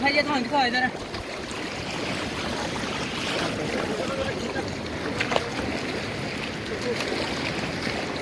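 River water swirling around a raft on a calm stretch of the Alaknanda river, a steady soft wash and lapping with people talking over it.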